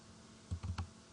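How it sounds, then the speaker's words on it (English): A few quick, close keystrokes as a formula is typed on a computer keyboard, a short burst of three or four taps over quiet background hum. "We'll start by typing equals VLOOKUP,"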